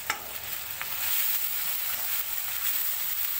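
Tomatoes with salt frying in a pan for a quick veg biryani, a steady hiss of sizzling with a few stirring scrapes, close and continuous with no talking.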